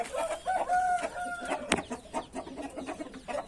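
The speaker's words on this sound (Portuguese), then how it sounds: "Na verdade é quatro galinhas que tá chocando" Brooding hens, four of them sitting on eggs, cluck in a low, irregular run on a farm, with a sharper squawk near the middle and steady fowl chatter throughout.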